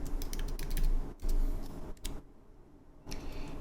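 Keys tapped on a computer keyboard in quick bursts of clicks, then a brief pause before a few more strokes, close and fairly quiet with no voices.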